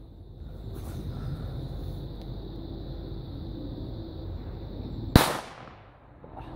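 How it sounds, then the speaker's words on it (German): An A-Böller firecracker goes off on New Year's Eve outdoors: one sharp, loud bang that quickly fades, after several seconds of steady outdoor background noise. "jetzt die A-Böller"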